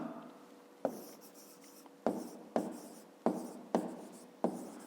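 Hand writing during a fifth-grade maths exercise: a pen scratches on paper in six sharp, separate strokes, each a crisp tap that trails off into a soft scrape, close and clear with no talking.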